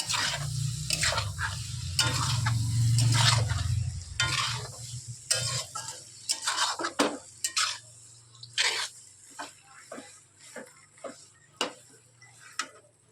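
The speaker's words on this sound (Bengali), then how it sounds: "ভেজিটেবলগুলোর সাথে চাউমিনটা ভালোভাবে ভেজে নিতে হবে" Chowmein noodles stir-fry with mixed vegetables in a pan, opening with a loud, low sizzling roar. This gives way to a quieter stretch of sharp, irregular clicks and taps as a utensil scrapes and tosses the noodles.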